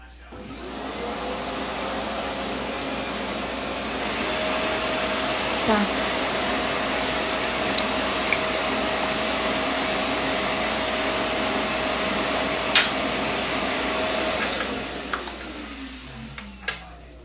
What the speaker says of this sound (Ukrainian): Це наш пилосос.